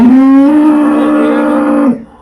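A Nili Ravi buffalo moos once, loud and close, in a long steady low call of about two seconds that cuts off sharply at the end.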